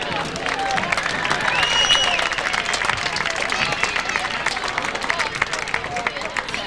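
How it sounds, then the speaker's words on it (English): A crowd claps and cheers for a middle school golf club at a high school football event, with scattered hand claps and murmuring voices mixing under someone talking. "And another round of applause for the golf club at the middle school."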